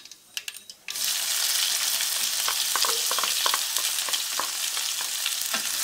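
Onions hit hot oil with cumin seeds and burst into a loud, steady sizzle after a few clinks, with intermittent scraping as a spoon keeps stirring them in the pan, close up and without speech.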